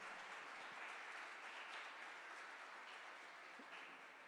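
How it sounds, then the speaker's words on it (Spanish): A church congregation applauds during a Sunday gathering, a steady, even wash of clapping that holds for several seconds and stays faint and distant, with no voices on top. "Démosle de nuevo un aplauso al Señor"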